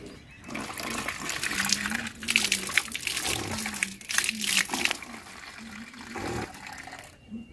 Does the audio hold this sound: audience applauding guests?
no